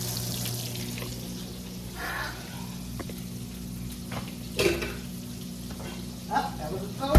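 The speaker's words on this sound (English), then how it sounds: "It's frying." Fish frying in a skillet, a continuous soft sizzle with occasional louder spits and faint kitchen clatter nearby.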